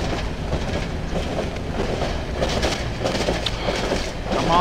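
A long train rolls past in the video game Cry of Fear, a continuous clattering rumble of wheels on rails with rhythmic clicks, loud and close throughout.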